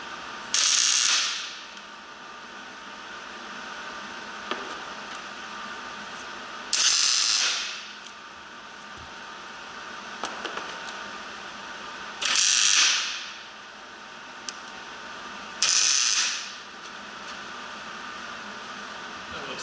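A Hi-Lift jack mount on a Jeep Rubicon gives four separate bursts of bright, rattling metallic ratcheting, each about a second long and spaced several seconds apart, with quiet workshop background and faint ticks in between.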